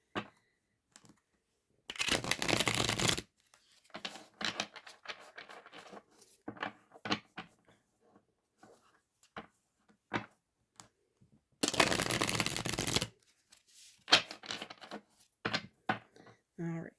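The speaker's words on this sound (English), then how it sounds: "I'm just going to give this a quick shuffle" Two bursts of tarot cards being shuffled, each about a second long, crisp and close, separated by scattered soft tapping and handling noises.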